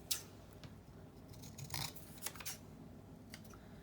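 Scissors make several short, quiet snips through paper for a Christmas journal page. The crisp cuts are separated by brief pauses, with no talking.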